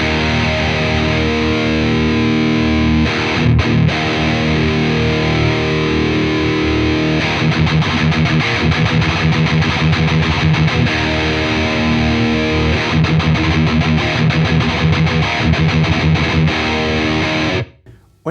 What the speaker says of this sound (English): Let's check out the voicing New York and the voicing Bay Area.